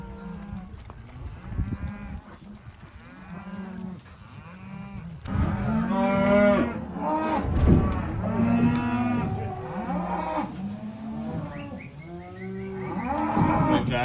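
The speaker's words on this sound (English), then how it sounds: "We'll have a full day of working cows." Several cattle moo repeatedly in a corral, some near and loud, others farther off, their low calls overlapping in a busy, continuous chorus.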